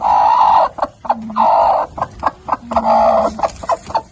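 A broody hen clucking close by, with low drawn-out grumbling clucks in two longer bouts broken by a series of short sharp clucks, alone without talk.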